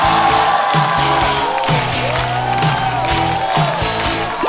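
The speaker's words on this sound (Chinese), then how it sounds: "掌声欢迎王小利。" A live stand-up comedy audience cheers and applauds to welcome comedian Wang Xiaoli, a loud, continuous crowd roar with whoops and clapping over music.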